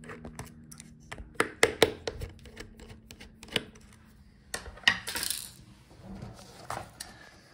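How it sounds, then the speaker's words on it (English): Hinge screws being removed from a Dell Latitude 5440 laptop: a run of sharp, close metallic clicks and taps, with a few brighter rattling hits that sound like small screws or a driver striking the chassis, spread irregularly across the clip. "So now I'm taking out the hinge screws."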